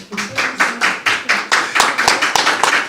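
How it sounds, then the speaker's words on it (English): Audience applause at a prime minister's press briefing, heard as a quick run of sharp, close hand claps with a steady rhythm, lasting a few seconds with no talking over it. "I'll pause right there so you can applaud them."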